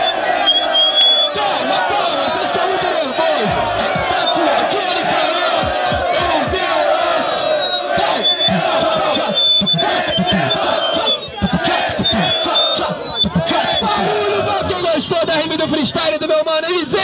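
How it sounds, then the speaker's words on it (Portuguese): Crowd at a street rap battle in São Gonçalo cheering and shouting continuously, a loud, dense roar of voices with whoops and yells, sustained for the whole stretch. "Muito barulho pra batalha!"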